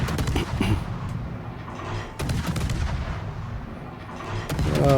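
Naval guns fire in the World of Warships video game: repeated booming gun blasts, with a sharp cluster near the middle, over a steady low rumble of engine and battle noise. Close and fairly loud.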